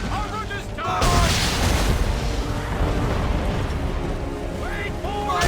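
Ship cannons fire in a naval battle in the video game Assassin's Creed III, opening with one loud booming blast that trails into a long rumbling roar, with shouted orders at the start and end.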